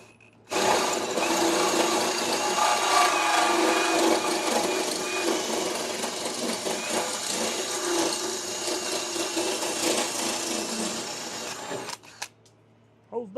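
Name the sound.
drilling a hole in metal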